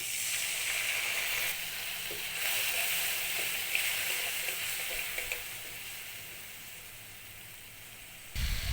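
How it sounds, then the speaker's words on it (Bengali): Ginger, garlic and ground spices including coriander, cumin and Kashmiri chilli powder frying with a splash of water in a pan, a steady close sizzle with soft stirring scrapes throughout and a brief louder hiss at the end. "এবার অল্প একটু জল দিয়ে কষিয়ে নিচ্ছি"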